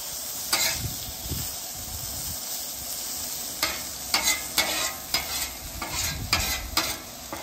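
Cheesesteak meat stirred and sizzling on a pellet grill or cast-iron pan for pizza, a steady close frying hiss broken by repeated scraping, stirring clatters, with no talk.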